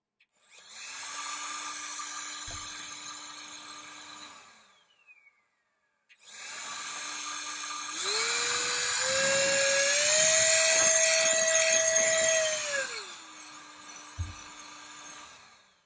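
Rechargeable variable-speed compressed air duster blowing onto a cloth: a high whirring motor hiss runs alone, cuts out briefly, then returns and climbs to a louder, higher-pitched speed before dropping back down, with small clicks from the switch.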